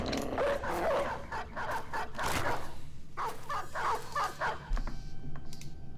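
Several dogs bark and yip in quick, overlapping bursts inside a fantasy video game, loud and continuous over a steady background din, with no talking.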